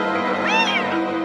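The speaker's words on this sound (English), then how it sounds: "Cubs are swept by the Miracle Mets after a black cat crosses the field" A cat meows once, a clear rising-and-falling cry over a steady background hum, dropped in as a short sound effect.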